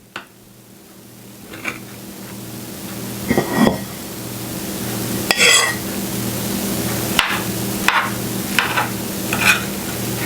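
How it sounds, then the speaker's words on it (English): Stuffed pepper skillet being spooned up from the pan, a few soft scraping and clinking spoon strokes over a steady low sizzle, close and moderately loud with no talking. "I'm going to spoon up some."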